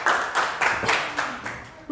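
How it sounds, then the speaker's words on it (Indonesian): Classroom applause for a student presentation group, several short bursts of hand clapping from a small group, fairly close and lively, with a faint voice underneath. "Beri tepuk tangan untuk kelompok 4."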